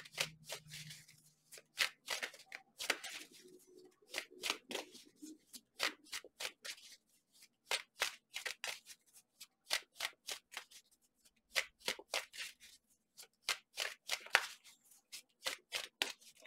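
Tarot cards are shuffled and drawn close up, with quiet riffles and flicks in uneven bursts and short pauses between them.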